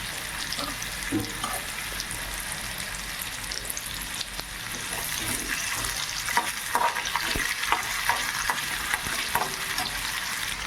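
Potatoes frying in a pan in a home kitchen, a continuous hissing sizzle with occasional stirring scrapes and clatters, close and fairly loud throughout, with no talking.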